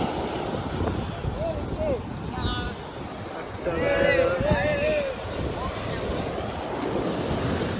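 Surf rolling onto a beach, with a continuous wash of breaking waves and strong wind buffeting the microphone, and people talking and calling out over it.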